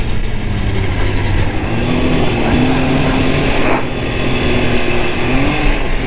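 An Arctic Cat Thundercat snowmobile engine runs hard at full throttle while cornering, a loud continuous roar with a rising and falling whine that holds steady throughout, close and dominant.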